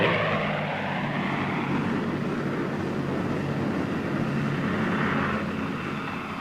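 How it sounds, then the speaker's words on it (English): A WWII propeller fighter plane dives at speed, its engine and rushing airflow forming a loud, steady, broad roar that holds for several seconds and eases slightly at the end, with no voices. "Plane gains speed extremely fast in a dive."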